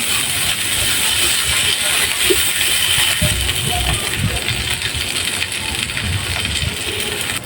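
Potatoes coated with salt and turmeric fry in hot mustard oil, a steady, close crackling sizzle running throughout with small pops and stirring clatter, no voices.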